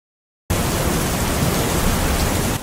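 After a moment of silence, rain at night falls through a leaky roof as a loud, dense, unbroken hiss that continues steadily to the end.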